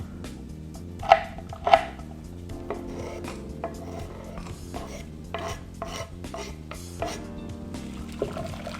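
Steady knife-on-board slicing of bouillon cubes, with a few louder cuts near the start, set against a constant background hum, close by and fairly quiet.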